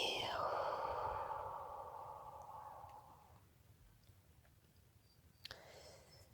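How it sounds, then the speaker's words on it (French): A slow, deep breath out during a guided shamanic healing meditation: a close, breathy rush lasting about three seconds that gradually fades into quiet room tone, with no talking. "On expire."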